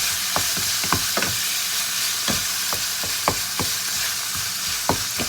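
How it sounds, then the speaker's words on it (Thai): Minced pork, basil and konjac noodles stir-fried in a pan, a steady sizzle under repeated sharp scrapes and taps of a spatula against the pan, close and busy, with no talking. "ผัดคลุกเข้าให้เข้ากันนะคะ"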